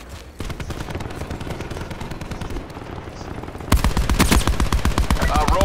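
Video game gunfire aimed at a robot, with rapid machine-gun bursts rattling steadily throughout, then turning louder and denser partway through.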